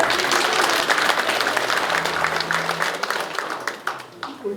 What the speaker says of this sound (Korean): 소개할 때마다 큰 박수로 환영해 주시기 바랍니다